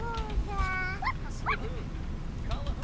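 Small sick puppy in The Sims 4 life-simulation game yipping and whimpering in a few short, high bursts over a steady low game background, with no voice over them.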